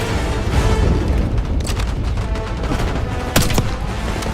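Sustained cover gunfire in a Call of Duty Black Ops 6 cutscene, a loud continuous fusillade of shots with heavy booms and a sharper burst near the end, no voices over it.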